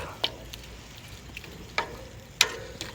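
Shrimp stock and gravy are stirred into a hot pan with a soft continuous sizzle, while a spoon scrapes and clicks sharply against the pan a few times.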